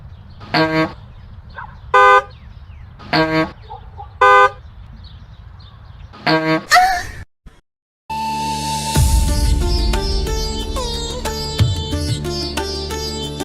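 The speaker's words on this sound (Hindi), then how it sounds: "आगे 500 गाड़ियों का ट्रैफिक लगा है, हॉर्न बजाओ।" Several short car horn honks sound in an irregular pattern, loud and close, followed by a sustained blaring horn with dense traffic noise underneath, in a heavy traffic jam on an Indian road.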